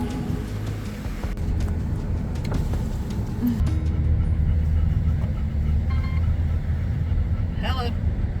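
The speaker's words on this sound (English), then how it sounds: "we're still driving around Central Cemetery" Inside a car driving around a cemetery in Central Indiana, a steady low engine and road rumble runs throughout, growing slightly louder partway through, while people talk over it.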